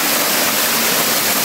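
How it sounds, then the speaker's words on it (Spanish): Los Pilares waterfall in El Salvador roars loudly and continuously, a dense, close rush of falling water that fills the whole moment with no voices. "ustedes ya conocían esta cascada"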